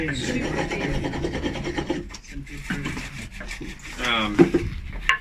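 Rough, rasping strokes of stone rubbing against a surface repeat in quick succession, close up, with brief pauses between passes.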